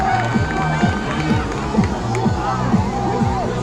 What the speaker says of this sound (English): This crowd's getting loud.